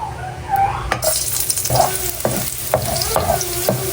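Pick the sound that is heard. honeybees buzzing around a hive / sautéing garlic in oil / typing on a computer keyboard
sautéing garlic in oil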